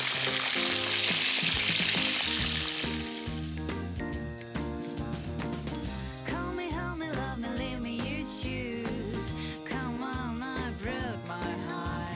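Shrimp for Thai tamarind shrimp deep-fry in hot oil with a loud, bright sizzle that dominates the opening seconds, then continues under upbeat music that takes over the rest.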